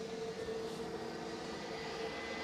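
A large Delta airliner jet roars at Edinburgh Airport, a steady, fairly distant engine rumble and whine holding level throughout.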